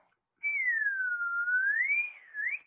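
A clear, solo whistle glides down, rises again and ends with a short upward flourish, with no other sound around it.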